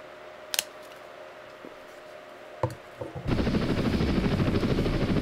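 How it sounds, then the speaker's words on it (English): A few sharp clicks and ticks, then an Apache Longbow helicopter's rotor and engine roar start up abruptly in a video game and continue loud and steady. "Good looking helicopter, I gotta tell you."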